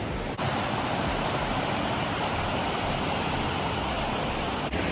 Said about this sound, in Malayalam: നമ്മളിപ്പോൾ ഉള്ളത് കണ്ണൂരിലെ ഏറ്റവും പ്രശസ്തമായ വെള്ളച്ചാട്ടം ഏഴരക്കുണ്ട് വെള്ളച്ചാട്ടത്തിലാണ്.